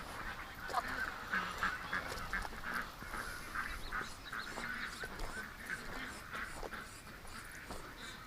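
Outdoor ducks honk and quack repeatedly at a moderate distance, an irregular chorus of calls over a faint background with no talking.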